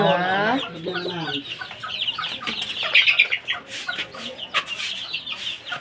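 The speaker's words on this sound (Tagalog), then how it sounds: "Isang manok lang yan. Isang inahin." A hen clucks in a quick, throaty series up close, followed by scattered chirps and rustling, with faint background activity.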